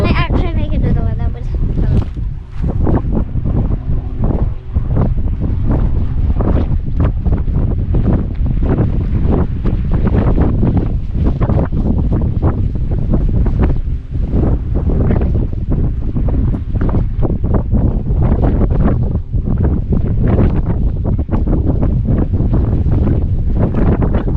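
Strong wind buffets the microphone outdoors in a Yorkshire village in northern England, producing loud, continuous, rumbling gusts and crackling bursts that last the entire stretch.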